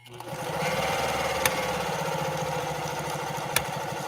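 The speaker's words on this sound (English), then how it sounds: "as it's going through its motion, it's going to be making a little bit of a click sound" A 1955 Pfaff 230 sewing machine runs steadily while stitching embroidery, a close, continuous mechanical whirr with rapid rhythmic stitching and two sharp clicks standing out.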